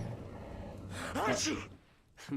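Sneeze from a person playing the video game Alan Wake Remastered, a sharp gasping intake followed by a quick burst, with another short breathy sound after a brief pause, close and fairly quiet.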